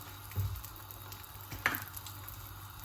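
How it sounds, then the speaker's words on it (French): Bérédjé batter, a Mayotte dish, hits a hot pan and sets off a soft steady sizzle. A few faint clinks and taps of handling sit over it, and nobody speaks. "je viens prendre la pâte et je vais venir le poser comme ceci."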